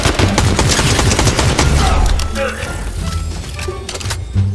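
Rapid bursts of gunfire from the video game Fortnite crackle loudly and densely for about two seconds, then thin out into scattered shots among other game sounds.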